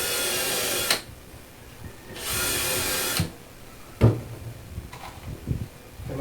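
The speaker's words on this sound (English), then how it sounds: "Pre-drill, countersink." A power drill pre-drills and countersinks a screw hole in wood, with two loud, close bursts of high whirring about a second each, followed by a few sharp knocks and clicks.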